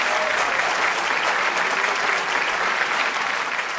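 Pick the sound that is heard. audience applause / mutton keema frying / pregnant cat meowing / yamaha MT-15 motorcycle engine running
audience applause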